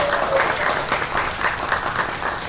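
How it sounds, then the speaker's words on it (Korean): An audience claps steadily for a speaker at a talk event, a dense continuous round of applause filling the hall throughout. "저를 위해서 박수 한 번만 쳐주시면 감사하겠습니다."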